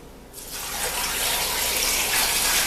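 Cold tap water starts suddenly and gushes steadily into a pot of potatoes, a loud, continuous splashing stream with no voices.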